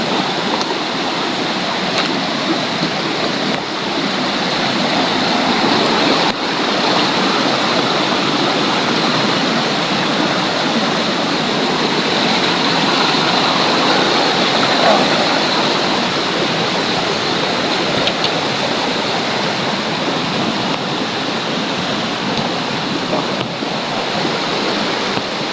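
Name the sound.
flowing stream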